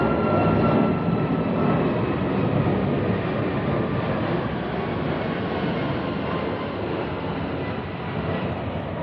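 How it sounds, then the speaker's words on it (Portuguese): An airplane passes overhead, its broad, steady roar filling the whole stretch and easing slightly as it moves on, with no talking over it. "1 minuto que o avião vai passar, de novo"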